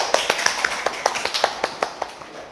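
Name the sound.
applause, clapping in a yoga class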